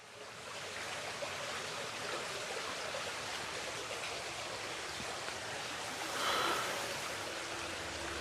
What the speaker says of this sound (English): when I put my microphone around, all I can hear is just water